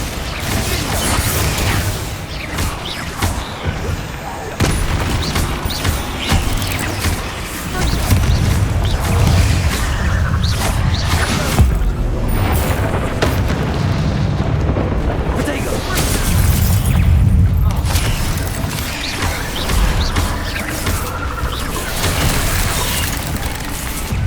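Spell blasts from Bombarda and other combat spells in the Hogwarts Legacy video game, a dense run of booms, bursts and mechanical clatter that stays loud and busy throughout, with a voice calling out over the battle.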